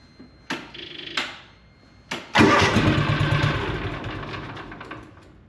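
A John Deere Gator 6X4 that has sat unused since 2014 cranks in a few short clattering bursts, then catches and settles into a loud, close, steady idle that slowly fades.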